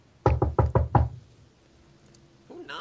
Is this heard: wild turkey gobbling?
no